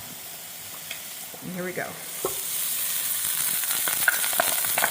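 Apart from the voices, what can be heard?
cooked rice frying in cooking oil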